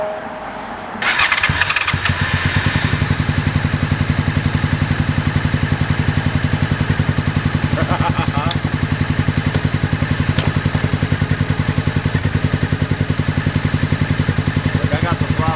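Gen 5 Honda VFR motorcycle engine cranking over and catching, then running steadily at a fast, even idle, loud and close with a few faint knocks on top.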